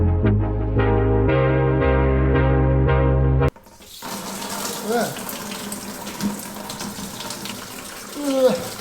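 Coolant drains from a Mishimoto radiator into a bucket as a steady, close splashing pour that starts abruptly after a few seconds of music and runs on with small gurgles and irregular surges.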